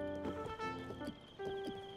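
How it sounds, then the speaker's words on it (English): A horse in The Legend of Zelda: Tears of the Kingdom gives a high, wavering neigh with a few soft hoof clops mixed in, set against a faint game music bed. "We have got ourselves a new horse."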